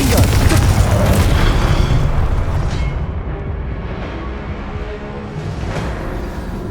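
Confringo fire spell blasts in Hogwarts Legacy, a loud booming explosion with roaring rumble that fades slowly into a sustained crackling tail, dense combat effects continuing throughout.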